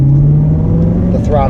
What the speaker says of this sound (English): A couple of nice little downshifts where it matched the